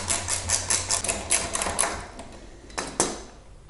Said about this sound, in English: I'm just going to use this socket